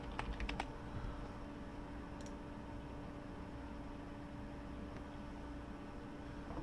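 A computer keyboard is tapped briefly as a password is entered, a quick cluster of close clicks at the start followed by a few isolated taps over a steady hum of background noise.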